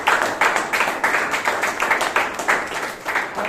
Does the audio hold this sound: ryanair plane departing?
no